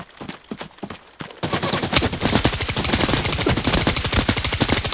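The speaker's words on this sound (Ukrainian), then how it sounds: "Це ти стріляв щойно?" In the shooter game Arena Breakout: Infinite, a few scattered shots give way to a loud, sustained burst of rapid automatic gunfire that continues to the end.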